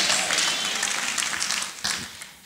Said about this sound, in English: Clap your hands, people of God, for Jesus Christ.